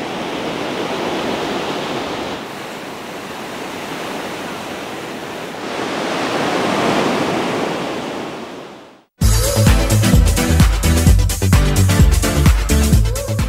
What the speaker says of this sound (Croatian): Valovi na Hikaduvi mogu biti visoki i do 5 metara,